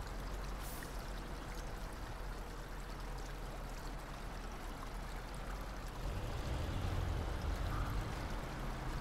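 A truck driving through a river in the video game SnowRunner: steady rushing, splashing water noise with a low engine rumble underneath, growing slightly louder and heavier toward the end.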